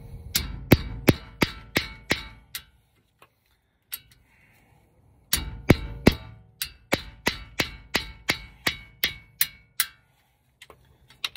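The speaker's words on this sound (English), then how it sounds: "So you get a hammer," A hammer strikes a metal front brake caliper bracket on a Ford Explorer in quick runs of sharp, ringing clangs, a burst of blows, a pause with faint tapping, then another steady series of hits.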